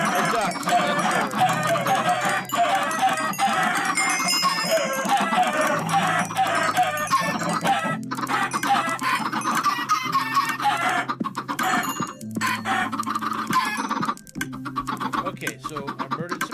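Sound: chickens clucking in a video game

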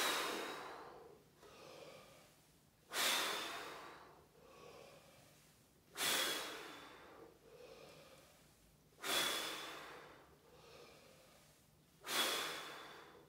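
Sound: deep breathing in and out during air squats

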